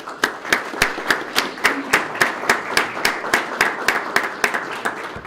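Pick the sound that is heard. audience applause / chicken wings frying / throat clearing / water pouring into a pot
audience applause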